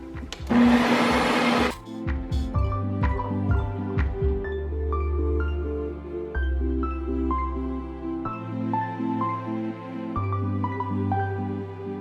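Ninja CREAMi NC301 ice cream maker running its mix-in cycle: a brief loud whir, then a steady mechanical motor drone that shifts pitch in stepped stages as it grinds through the tub.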